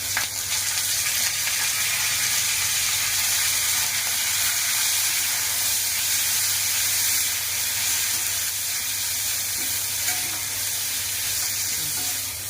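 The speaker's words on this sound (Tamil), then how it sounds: "இப்போ இந்த கருவேப்பிலையும் போட்டு வதக்கிக்கலாம்" Curry leaves and urad dal fry in hot oil for a Tirunelveli sodhi kulambu, giving off a loud, unbroken sizzle and hiss that stays steady throughout.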